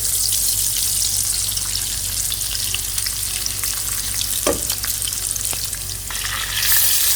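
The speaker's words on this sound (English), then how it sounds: "now I'm going to go in with green chilies, cashew nuts, and I'm going to fry them for about a minute or so" Green chilies and cashew nuts fry in a pan over high heat for a chicken curry, making a loud, dense, continuous close sizzle with scattered crackles and one brief scrape near the end.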